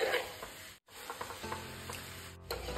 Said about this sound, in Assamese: এতিয়া ফ্ৰাই কৰি লোৱা গোটেই চিকেনখিনি দি দিছোঁ।